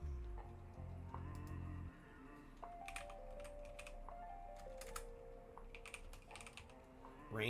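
Keystrokes on a computer keyboard, a quiet run of light clicks and taps spread across several seconds, close by with no voices.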